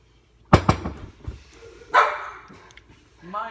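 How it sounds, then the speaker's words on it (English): A dog gives a few sharp barks at close range, the bursts separated by short pauses, with household background noise around them. "See, she just barks."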